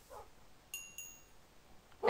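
Dogs in the video game Minecraft give two short, thin yips close together, followed by a louder, rougher burst at the end over a quiet game background.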